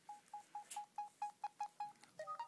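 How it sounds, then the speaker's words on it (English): A Samsung S5230 phone keypad sounds about a dozen short, evenly spaced electronic beeps as keys are pressed, ending in a quick rising tone pair, close and clear. "Really hate this keypad noise"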